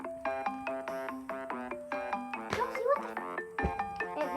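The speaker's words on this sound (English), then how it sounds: "we're gonna be dancing to iPhone ringtones, and the first one is Playtime" The iPhone ringtone Playtime plays loud and close as a bright, bouncy run of repeating synth marimba-like notes in a steady rhythm, with brief clattering movement noise midway.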